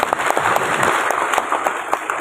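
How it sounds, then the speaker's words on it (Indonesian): An audience at the opening of a training event applauds in dense, close, continuous clapping that carries evenly from start to finish. "Sekali lagi kita kasih tepuk tangan Bapak Ibu sekalian."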